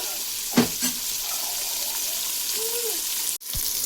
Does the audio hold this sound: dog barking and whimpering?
no